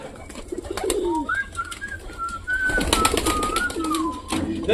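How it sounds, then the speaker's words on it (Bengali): Pigeons coo repeatedly at close range before feeding, their soft, rolling calls overlapping and accompanied by light shuffling and wing noise. "টোটালি সবকটা পায়রা খাওয়ার জন্য রেডি হয়ে গেছে।"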